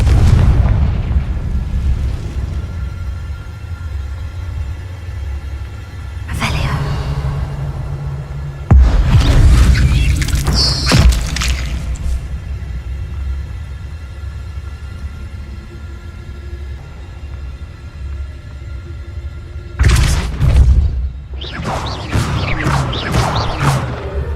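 Confringo fire spells explode in Hogwarts Legacy: several heavy booms and crackling bursts over a continuous low rumble, with a cluster of sharp blasts near the end.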